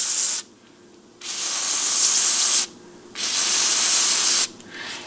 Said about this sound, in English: spray your deoxit inside every switch